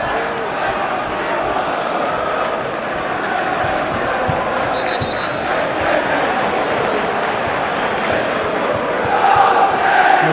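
A large football stadium crowd at a Middlesbrough versus Everton match roars and jeers in a steady, dense wash of voices, swelling louder near the end.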